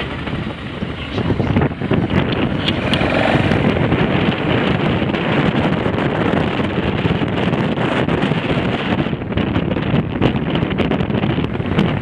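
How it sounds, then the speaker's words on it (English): Strong wind buffets the microphone continuously on arrival in Dublin, Ireland, during a motorcycle tour, a loud roaring rush with a rumbling low end that persists throughout. "it's a bit windy"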